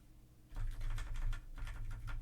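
Computer keyboard keys tapped in quick, irregular bursts, close and fairly loud, with a brief pause midway and steady low background hum underneath.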